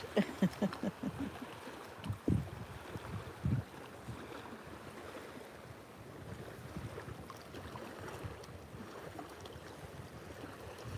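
Beach ambience: a steady wash of waves and wind along the shore, fairly quiet, with a few louder bumps of wind against the microphone near the start.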